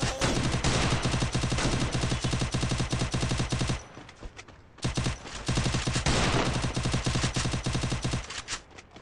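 Rapid automatic gunfire from Garena Free Fire in a Clash Squad ranked match, loud sustained bursts with a brief lull near the middle before firing resumes, no voices.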